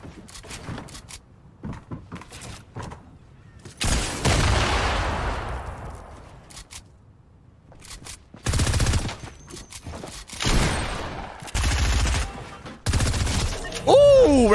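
Rapid bursts of gunfire in the Fortnite video game break out in loud clusters through the stretch, separated by quieter gaps with faint background sounds.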